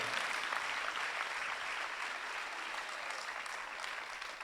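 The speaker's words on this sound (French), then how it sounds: "Give a clap for God." Audience applause at a bilingual French-English gospel preaching event, a steady, dense wash of clapping from a large crowd that holds at an even level throughout with no speech over it.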